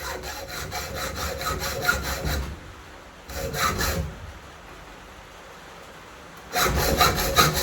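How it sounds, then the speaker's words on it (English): A hand hacksaw cuts through metal with rapid back-and-forth rasping strokes in three bursts separated by pauses. The sound is close and fairly loud, with no talk. "I can't believe you're using a hacksaw"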